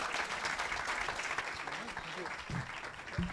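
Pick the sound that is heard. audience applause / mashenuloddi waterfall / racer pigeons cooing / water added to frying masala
audience applause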